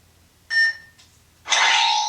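A bright electronic lightsaber beep sounds briefly, then after a short gap a louder, sustained buzzing tone swells and holds to the end, with no talking.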